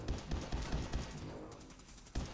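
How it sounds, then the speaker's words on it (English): Enemy gunfire in Fallout 4, a burst of rapid repeated shots in a loose rhythm, fading slightly mid-way before a final sharp shot near the end. "Why is he shooting so much?"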